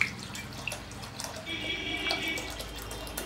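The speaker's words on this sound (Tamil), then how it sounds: "ரெண்டுத்தையும் நல்லா கழுவிட்டு தண்ணி ஊற்றி" Water is poured and trickles while toor dal and moong dal are rinsed in a home kitchen for sambar, a faint, continuous splashing and dripping with a few soft clinks.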